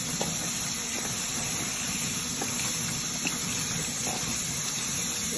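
Sorrel leaves rinsed under a running tap in a kitchen, a steady loud hiss of flowing water throughout with faint splashes, no talking.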